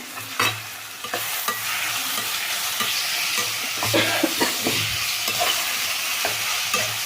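Curry leaves crackle and sizzle in hot oil alongside potato and onion for a gravy, with a steady frying hiss broken by scraping stirs and sharp pops close to the pan.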